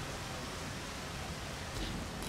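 Heavy downpour in the video game Rain World, a dense, even roar of rain that fills the whole moment without pause, loud and unbroken.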